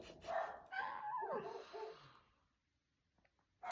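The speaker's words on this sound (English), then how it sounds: "do you hear these dogs?" A neighbor's golden retriever barks and yips in a close, rapid burst that runs for about two seconds, then everything falls quiet before a fresh sound starts at the very end.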